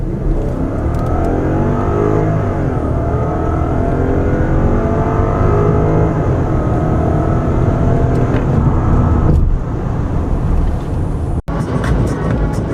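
A Lexus LS-460 sedan's engine pulls strongly under acceleration on the road, a loud, smooth rising drone with tire and wind roar, then a brief break before the hum resumes.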